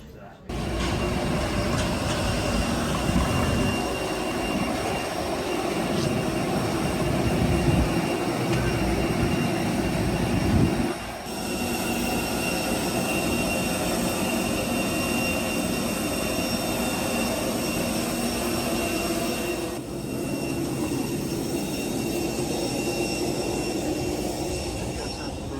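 The right-side engine of a 14-year-old easyJet Airbus A320-200, heard from a cabin seat near the wing, gives a steady, loud jet roar for the whole span, with brief dips in level at about eleven and twenty seconds.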